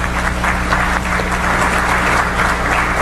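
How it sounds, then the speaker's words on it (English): A steady round of applause from the audience at a college's annual fundraising dinner, many hands clapping evenly at moderate loudness throughout, with a faint low hum underneath and no voices on top. "Let us give him a big round of applause"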